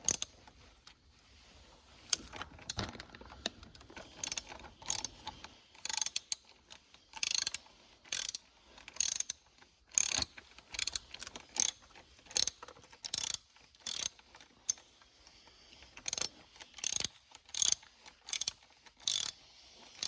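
A wrench ratchets in quick clicking bursts while tightening camshaft adjuster bolts on a Mercedes-Benz engine, the short rapid pawl clicks repeating close up with brief pauses between strokes.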